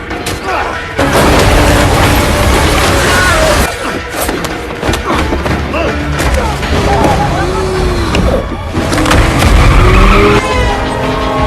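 A bulletproof car tears through a film chase scene, tires skidding and squealing loudly with heavy thuds and booms in a dense, continuous roar of action.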